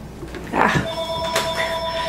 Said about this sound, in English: Sorry, there goes my phone.